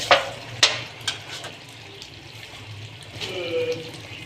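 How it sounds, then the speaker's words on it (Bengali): Chicken curry in a pan, just topped with coriander leaves, is stirred with a utensil. A few sharp scraping clinks sound near, over a soft steady sizzle, with faint background noise throughout. "ধনিয়া পাতাটা দেওয়ার পর মাংসটা একটু নেড়ে নেওয়া হচ্ছে।"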